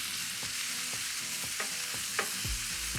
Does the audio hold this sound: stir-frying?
yes